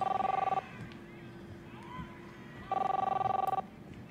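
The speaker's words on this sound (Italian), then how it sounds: "You don't hear the phone ringing off the hook?" A telephone rings in the video game Captain Spirit, with two bursts of electronic trilling a couple of seconds apart over quiet room ambience.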